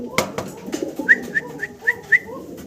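American magpie pigeons coo nearby, a soft rhythmic series of five or six short hooting calls after a couple of brief scuffling sounds.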